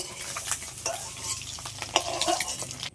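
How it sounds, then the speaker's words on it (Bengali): Eggs fry in a pan with a close, crackling sizzle broken by quick spatula scrapes and taps against the metal, busy and uneven for a few seconds before cutting off. "এবার আমি ডিমগুলো সব ভেজে নেব।"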